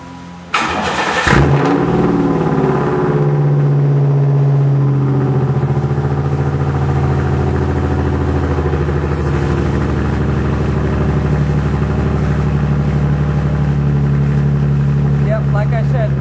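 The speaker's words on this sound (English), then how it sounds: "the exhaust pipe is right down in there because there's no muffler, just a straight pipe" 1993 Oldsmobile Cutlass with a straight-pipe exhaust and no muffler cranks and fires with a loud burst, then settles into a raw, steady, throbbing idle that continues loud and close.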